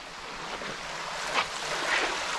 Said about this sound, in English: I have no idea what creek this is.